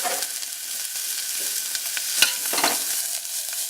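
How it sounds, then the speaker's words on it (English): Red onions sauté in grapeseed oil in a hot pan, giving a steady close sizzle with a few sharp crackles and the scrape of stirring, with no voices. "Just a little bit of grapeseed oil, a hot pan, and we're just going to quickly give our nice red onions a nice saute"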